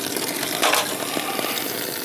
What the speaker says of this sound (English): Now this is a deep well pump, and it will pump